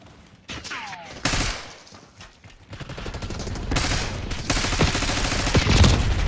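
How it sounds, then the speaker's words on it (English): Shotgun fire in the shooter game Call of Duty Black Ops 6, a few heavy booming blasts amid a thick, chaotic wash of battle gunfire that grows louder and denser toward the end. "that shotgun's a killer"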